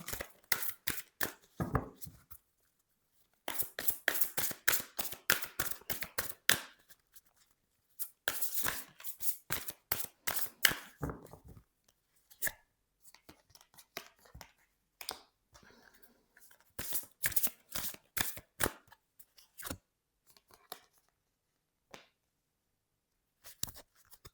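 Oracle cards being shuffled by hand in repeated bursts of rapid papery riffling and flicking, close and crisp, separated by short silent pauses.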